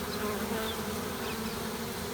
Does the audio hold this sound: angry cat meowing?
no